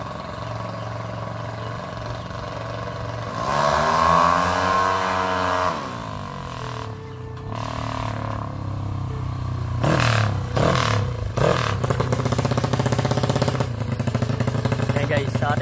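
A G-Works drag race motorcycle in a Wave vs Mio matchup revs loudly up close, its engine note climbing and falling in a sustained whine, then breaking into choppy bursts of throttle over steady engine drone.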